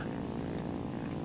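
Propeller aircraft engines in the War Thunder combat game, Italian planes in the match, a steady droning buzz that holds loud and continuous without break.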